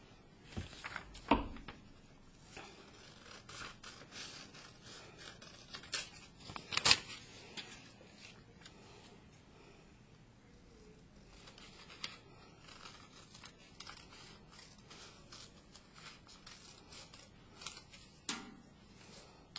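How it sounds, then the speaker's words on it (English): Scissors cut paper shapes in short scattered snips and rustles of paper, faint and close in a quiet room, with pauses between cuts. "I can take them and I can cut them out."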